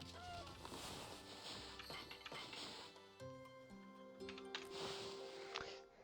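Chickens cluck and squawk in a few short bursts amid Okami HD game music and chiming effects, moderately loud, with no talking.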